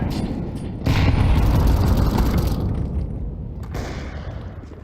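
A grenade blows up in a first-person shooter game, making a loud, close, rumbling blast that tails off, followed a few seconds later by a second, softer burst.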